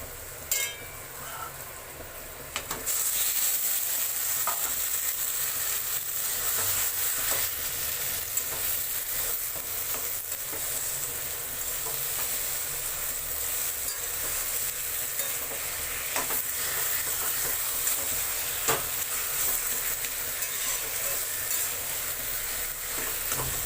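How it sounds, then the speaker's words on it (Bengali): Taro greens tossed into a hot pan of turmeric-spiced, shrimp-cooked base, catching with a steady crackling sizzle and scraping stir after a quieter opening moment, continuous and close. "এইবার আমি সার কচুটা দিয়ে দিচ্ছি"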